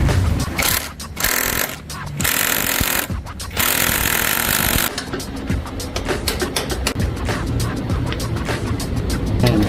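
Impact wrench loosening the front sprocket nut on a Kawasaki ZX4RR, several loud rattling hammering bursts close by, separated by short pauses, then steady workshop clatter and tool noise.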